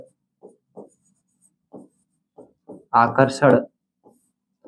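Chalk scratches across a classroom board in short, sparse strokes spaced through a physics lesson, with one brief burst of a teacher's voice partway through.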